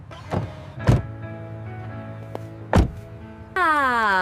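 A car door lock clunks a few times, sharp thunks spaced apart, followed by a steady electric whirring hum near the end, close and clear with no talking.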